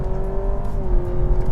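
A 2022 Honda Civic hybrid under hard acceleration in sport mode gives a loud, steady engine drone with a sustained tone, held constant throughout with no talk.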